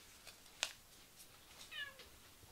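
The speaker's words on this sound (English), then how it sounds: "My cat is in the background." A female house cat meows faintly in the background of a quiet room, a short high call rising over low room noise, with no one talking.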